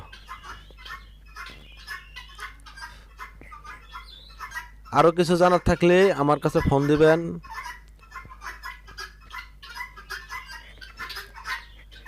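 Chickens on a poultry farm give a burst of loud, close clucking and squawking for a couple of seconds in the middle, while a person talks steadily before and after it.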